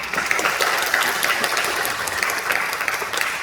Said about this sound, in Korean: 한번 박수해 주세요.